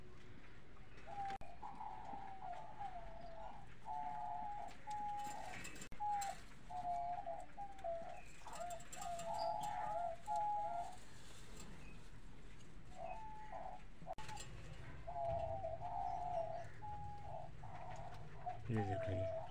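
Soft, repeated cooing from pigeons in short rhythmic phrases, fairly faint and distant, with light rustling and background noise between calls.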